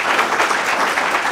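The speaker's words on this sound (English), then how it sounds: "Let's give whoever's here an applause." A brief, loud burst of audience applause at an annual meeting, many hands clapping together in a steady, close wash.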